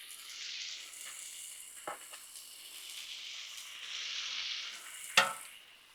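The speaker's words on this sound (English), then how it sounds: "love that sizzle" Bacon sizzling on a Blackstone griddle, a steady hissing fry with soft crackles and a sharper pop near the end, fairly quiet and without voices.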